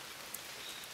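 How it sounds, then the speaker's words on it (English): Cold rain falls outdoors in a soft, continuous hiss, faint and even, with a single tiny drop tick standing out. "so it's raining"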